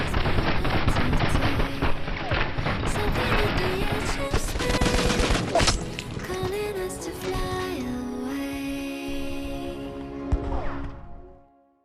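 An MG42 machine gun in Battlefield 5 fires long sustained bursts, loud and dense, with the rattle thinning toward the end before cutting out; no voices.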